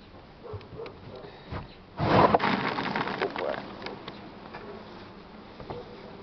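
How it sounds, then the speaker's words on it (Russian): Buckfast honey bees from a fresh first swarm buzz around an opened hive. A dense, low drone swells sharply when the lid comes off, then holds loud and close before easing. "Уже вот злая пчела летает."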